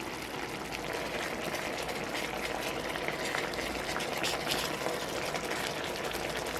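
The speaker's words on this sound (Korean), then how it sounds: "끓어오르면 강불에서 3-4분 익히세요." Sauce boiling hard in a pot on high heat, a dense, steady bubbling hiss that stays close and even throughout with no voices.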